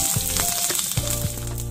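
Mustard seeds, slit green chillies and curry leaves roast in hot oil in a pan, a loud close sizzle with crackling pops and a few stirring scrapes.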